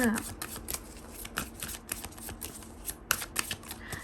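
Tarot cards being shuffled produce rapid papery riffles and flicks in irregular bursts, close and fairly soft, with a brief bit of a voice at the start.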